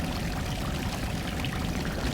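Running water in the video game Salt and Sanctuary pours in a steady, dense rush, heard alone and without change for a couple of seconds.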